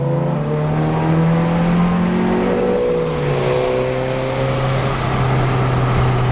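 A Citroën Saxo VTS 90 with a close-ratio racing gearbox accelerates hard; its engine roars loud and steady, rising in pitch through the revs with a brief dip at a gear change.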